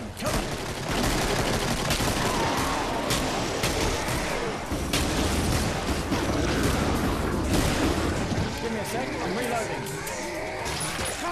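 Dense, continuous gunfire in a shooter video game, rapid shots and booms layered thickly throughout with overlapping voices talking.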